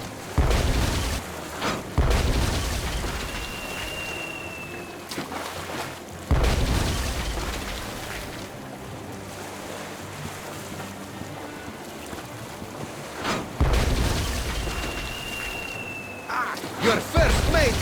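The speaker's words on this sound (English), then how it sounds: "It is for me to shoot the cannon" Cannon shots in the pirate adventure game Tales of Monkey Island, heard as several loud booming blasts spaced seconds apart over a steady backdrop of sea and ship ambience.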